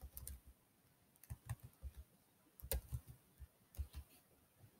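Typing on a computer keyboard while entering names to generate a QR code, heard as quiet, irregular clusters of key clicks with short pauses between bursts, close and alone without talk.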